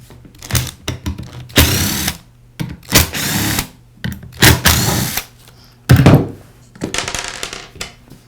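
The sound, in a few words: removing screws from Porter Cable sander pad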